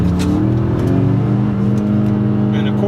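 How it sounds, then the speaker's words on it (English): Twin-turbo engine of a 2018 Ford F-150 pulling in sport mode, a loud steady drone with rising pitch heard from inside the cab, with a voice briefly over it. "you also have a really nice turbo sound coming from those twin turbos up front"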